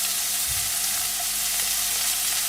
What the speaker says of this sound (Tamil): ஆனியன் வந்து கொஞ்சம் நல்லா வதங்குற வரைக்கும் நம்ம ஃப்ரை பண்ணணும்